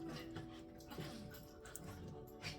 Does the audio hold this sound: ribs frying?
no